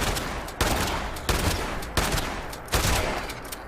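Heavy gunfire in the video game Fallout 76, a dense continuous roar of shots with four sharper blasts at roughly even intervals, loud and close.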